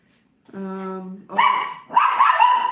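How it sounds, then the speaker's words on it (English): A small dog gives a whiny, drawn-out yelp, then two sharper barks in an indoor apartment rental, loud and close, with no talk over the barking. "I wouldn't be alive without Cece barking at least once"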